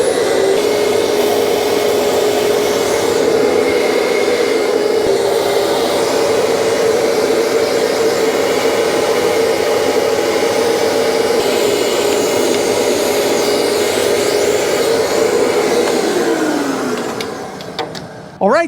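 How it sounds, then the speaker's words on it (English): A shop vacuum roars steadily up close, drawing walnut blasting chips out of a BMW N54 engine's intake ports, its whine holding constant before winding down near the end. "I'm gonna try vacuuming them out really quick."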